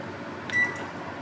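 A kitchen oven beeps once for a bread breakfast snack: a short, clear electronic tone over a low, steady hum, with no talk.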